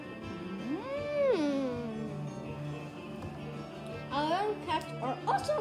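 An albino cat meows twice, a long rising-falling call followed later by shorter, sharper meows, close and fairly loud over a quiet room background.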